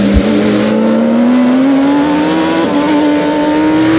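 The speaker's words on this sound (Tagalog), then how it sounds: "Grabe, sumirit ng mga motor nila." Loud, steady engine roar of racing motorcycles in a Pirelli Cup race, pitch climbing slowly as they accelerate, continuous and close with no talking.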